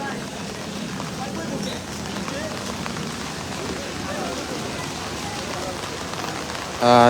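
Steady rain patters on surfaces at an outdoor cattle market, a dense even hiss throughout, with a brief louder burst near the end.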